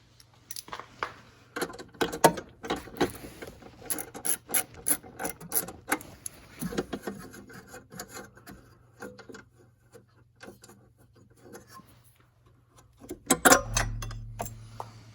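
A wrench works loose the 10 mm bolts holding the battery in a 2018 Cadillac ATS 2.0 Turbo, giving a long run of close, quiet ratcheting clicks and scraping metal with brief pauses.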